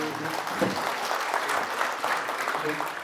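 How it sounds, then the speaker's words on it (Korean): Audience applause at the founding assembly of an international interreligious association as religious leaders are seated on stage, steady clapping across the room with faint voices mixed in. "여러분 박수로 맞아주시기 바랍니다"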